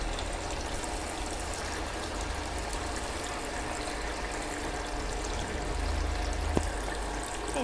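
A Consul Facilite 11kg washing machine (CWG11) fills with water during a wash of white laundry, giving a steady rushing, pouring stream that holds an even level throughout, with no talking.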